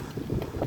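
Strong wind gusting during rain in a park in Tashkent, buffeting the microphone with a steady low roar and rising surges near the end.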